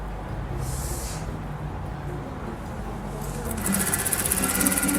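A sewing machine stitches lace onto a shirt with a steady, rapid mechanical whirr close to the mic, growing louder and busier in the final second.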